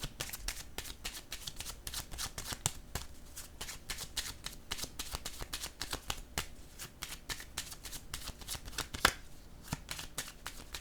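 Tarot cards are shuffled and handled up close, producing rapid, rhythmic riffling flutters and dense papery slaps that repeat steadily for about ten seconds at a quiet level.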